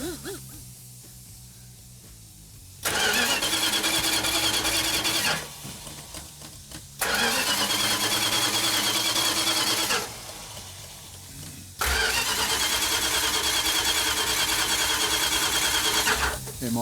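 A 1972 Plymouth Duster 340 V8 with a 4-speed, out of fuel, cranked by its starter in three long bursts that churn rhythmically without firing, separated by brief pauses, loud and close.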